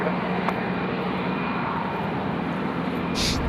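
Jet airliner at Sydney Airport on a windy day, a steady broadband engine roar holding at a constant, fairly loud level throughout, with a brief hiss near the end.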